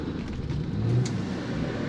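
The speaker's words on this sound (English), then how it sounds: "Now let's start this thing up." A BMW 635CSi engine turning over and catching, a steady mid-low car engine rumble with a slight swell in revs, close by and alone without talk.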